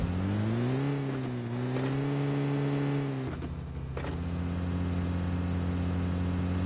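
A vehicle pulls away in PUBG Mobile Lite, its steady engine drone holding, then briefly dipping and shifting as it changes gear, close and continuous with no talk.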